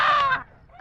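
A chicken lets out a short, loud squawk up close as it is being caught, followed by a brief pause and the start of another cry.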